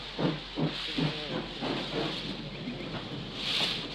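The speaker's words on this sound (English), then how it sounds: "As the train went away" A steam locomotive chuffs away in rhythmic puffs that gradually soften, with a steady hiss of steam and a louder hiss burst near the end.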